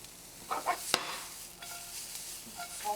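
Onion cooking gently in a pan toward golden caramelization for a spinach omelet, a soft low sizzle with a few stirring scrapes and one sharp utensil tap against the pan, quiet and nearby.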